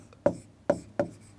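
Chalk writing on a classroom board during a history lesson: three sharp, close taps and strokes spaced evenly apart, with no talking.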